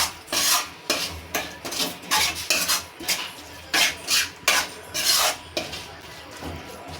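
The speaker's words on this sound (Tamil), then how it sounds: "நல்லா மிக்ஸ் பண்ணிக்கலாங்க." Mutton liver fry with masala stirred in a pan, a spoon scraping and clinking against the metal in repeated close strokes roughly every half second, with no voices.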